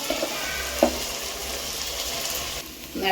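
Turmeric, chili and coriander powders fry in a pan for coconut rice, giving a dense close sizzle with a couple of brief utensil knocks, then easing slightly at the end.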